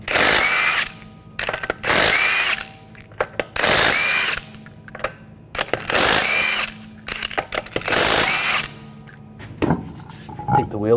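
Power tool with a 19mm socket spinning lug nuts off the rear wheel of a 2013-2022 Buick Encore, loud close whirring bursts of one to two seconds separated by short pauses and clicks.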